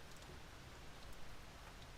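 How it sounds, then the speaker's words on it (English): Heavy rain pouring in torrents and beating with large drops against a bedroom window of a huge old house, a steady dense hiss with no pauses, close and continuous. "the sound of rain beating with heavy drops against her window"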